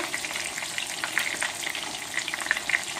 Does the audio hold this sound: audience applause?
no